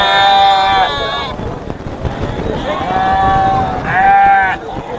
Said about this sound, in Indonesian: kita sedang berada di pasar kambing ini